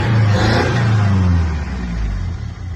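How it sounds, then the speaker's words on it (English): A Toyota Corolla engine runs close by with a loud, low rumbling drone that swells slightly as if revved, then eases back over a few seconds. "Just listen to that sound of the engine"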